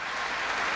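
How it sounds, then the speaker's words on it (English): A volleyball crowd applauds a spike during a match between Australia and Japan. The clapping is dense and steady, fairly loud, and fills a brief moment. "The crowd really appreciating that fine precision spike there by Mike Roy"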